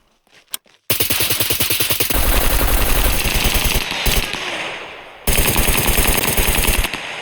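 Automatic gunfire from hipfire shooting in the video game SCUM, loud rapid bursts of shots in sustained strings with a short gap before a final burst, no talking.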